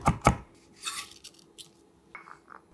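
Whole garlic cloves, three of them, minced with a knife on a board: two sharp close chops, then scattered lighter taps and a faint clink of utensils.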